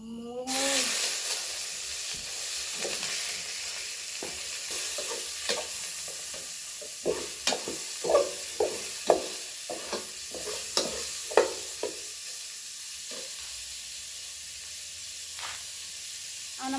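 Pork stir-frying in a hot pan: a steady sizzling hiss broken by a run of sharp clanks and scrapes as it is tossed, close and fairly quiet, with a brief voice at the start and end.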